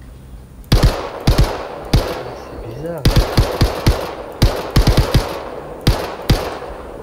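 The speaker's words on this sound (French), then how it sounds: "ton petit pistolet, il fait, il fait un super bruit par rapport à mon pétard" Sharp, punchy pistol gunshots in the game Star Citizen, fired in quick bursts and single shots, loud and close, with a voice speaking briefly between them.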